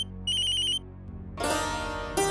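A phone ringtone in an Indian household plays a bright electronic melody of repeated tones, loud and close, with no voices over it.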